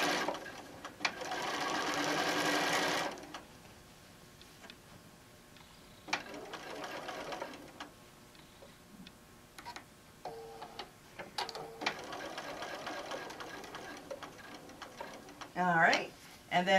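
A sewing machine runs a decorative stitch on fabric for a wine bottle bag in several bursts, a rapid close mechanical ticking between pauses, with a voice talking in the gaps.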